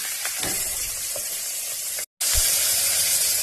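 Green chilies hit hot oil and fry with a loud, steady hiss that fills the clip. A brief silent cut near two seconds interrupts it, and the sizzle resumes at full strength, close and uninterrupted, with no talk over it.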